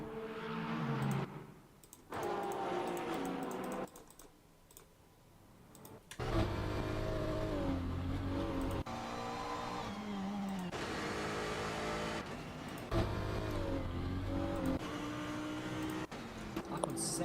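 Race cars, including a Bentley, circulate at Fuji in a racing video game, their engines whining and shifting pitch as they pull away, with clicking sounds and spells of quieter gaps.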